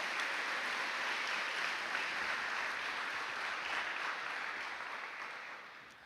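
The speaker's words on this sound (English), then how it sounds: "Let's give a round of applause to Emma Reynolds." High school ceremony audience clapping for a National Honor Society inductee, a steady, soft, somewhat distant wash of applause that fades toward the end.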